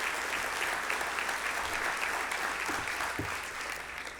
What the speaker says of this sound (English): So let's give all of our sponsors a round of applause.